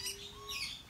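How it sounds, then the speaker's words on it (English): Parrots at an ecological farm in Hsinchu, Taiwan, letting out short, harsh squawks and chirps, fairly faint and at some distance, with no talking. "Couple parrots here"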